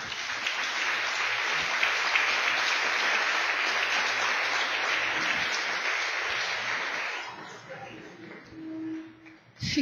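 A church congregation applauds in a long, steady wash of dense clapping that fades out near the end, followed by a brief voice.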